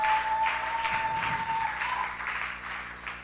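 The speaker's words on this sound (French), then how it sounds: "Acclamons très fort le Seigneur" A church congregation at a Sunday service applauds, a steady wash of clapping that slowly fades, with a faint tone and a murmur of voices underneath.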